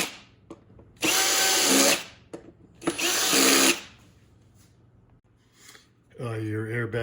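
A power drill drives screws into a 2011-2014 Hyundai Sonata hybrid door during window regulator replacement, with two loud whirring bursts of about a second each, a shorter spin near the end and brief quiet clicks between them.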